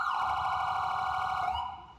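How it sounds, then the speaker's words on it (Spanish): An ambulance siren arriving at a roadside spot, a loud steady wailing tone held for over a second before it drops in pitch and fades near the end. "Mira, llegó la ambulancia."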